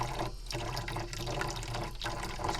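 Hot water runs from a tap in a DIY Sprinter camper van water system, a steady close rushing stream with slight gurgling fluctuations throughout.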